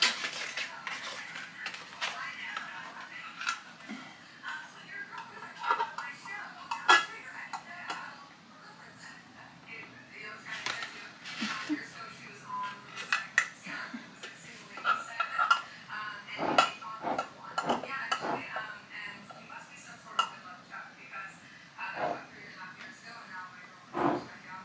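Metal canning jar lids are handled out of a box, with light clinks, rattles and ticking metallic knocks scattered unevenly, close by, while a person talks at intervals.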